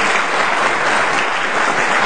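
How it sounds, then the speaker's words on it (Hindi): Loud, dense applause from a conference audience welcoming Dr. Vanita Prasad at a national media conclave, a steady wash of clapping that holds level throughout. "तालियां होनी चाहिए।"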